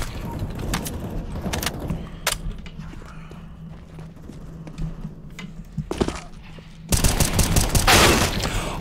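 AK rifle shots in CS:GO, a few sharp cracks scattered through quiet moments, then a loud, dense burst of rapid gunfire near the end.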